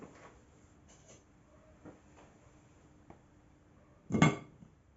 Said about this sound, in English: Lid back on.